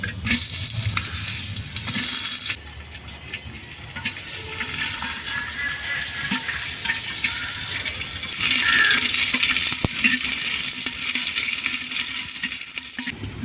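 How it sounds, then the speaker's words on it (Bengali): Steady crackling sizzle of chopped onions, bay leaves and whole dried chillies frying in hot oil, with occasional stirring clinks, growing louder and fizzier partway through. "তেলের মধ্যে দিয়ে দিচ্ছি তিনটে তেজপাতা দুটো গোটা শুকনো লঙ্কা পেঁয়াজ কুচি"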